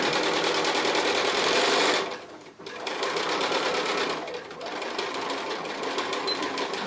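A sewing machine stitches a cushion in a fast, continuous whir, stops briefly, then runs on again with short back-and-forth stitching bursts, loud and close.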